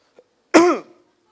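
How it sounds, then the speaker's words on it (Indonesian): A single short cough or throat-clearing burst, close and fairly loud, preceded by a faint tiny click and followed by silence. "Akhirnya gue mencoba untuk batuk barengan dengan kentut."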